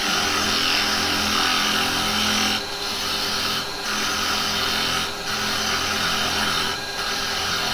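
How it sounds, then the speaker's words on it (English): A carbide chisel cuts end grain on a spinning wood lathe, giving a loud, continuous rough whirring and shaving hiss. Several brief dips mark the tool easing off and re-engaging, with no voices. "I want to slice the end grain off."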